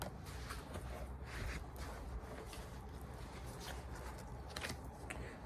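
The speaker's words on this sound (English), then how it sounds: "I'll shuffle 2 more times, and I'll take the top and the bottom." A deck of oracle cards is shuffled, giving soft riffling and papery flicks in quick irregular bursts over a faint room hiss, close by and quiet.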